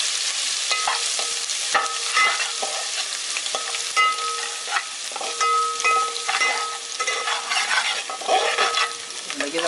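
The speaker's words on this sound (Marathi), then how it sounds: "परतून घ्यायचं जरा." Garlic sautés in a pan for homemade street-style veg chowmein, a steady loud sizzle broken by repeated scraping and stirring strokes of a spatula, with no talking.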